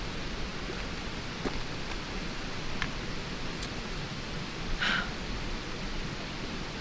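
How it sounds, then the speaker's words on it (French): Rain falls outdoors at an open-air gathering, a steady broadband hiss with scattered louder drops and rustles, fairly faint and continuous throughout with no voices. "On va rentrer parce qu'il pleut."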